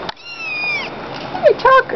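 A tabby munchkin kitten meows several times in quick succession, close and clear, its rising and falling calls bunched near the end with a short pause between.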